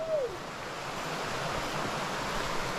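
Steady roar of a waterfall and river at Cidade de Pedras, Itacambira, with continuous broadband rushing water filling the scene, no voices.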